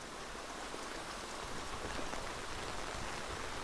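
Rain in the video game Interstellar Marines: a soft, even hiss of steady rainfall with faint scattered drops, continuous and fairly quiet, with no voices.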